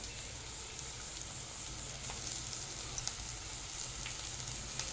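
A bitter wild leafy vegetable fries in a pan with sautéed onions and green chillies, giving a steady close sizzle with faint crackles and a few soft stirring ticks.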